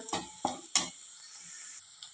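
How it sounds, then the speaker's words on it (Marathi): Dry coconut is sautéed in an onion-garlic tempering, with three quick spatula scrapes against the pan over a faint sizzle, followed by a quieter stretch. "सुकं खोबरं घालून चांगलं परतून घेऊया"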